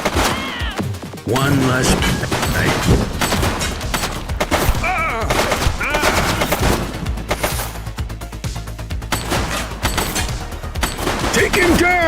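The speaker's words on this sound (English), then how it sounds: "She's shooting!" A woman fires a gun in a tense police standoff, loud close gunshots cracking in a rapid, irregular burst over shouting and dramatic music, with someone speaking briefly amid the fire.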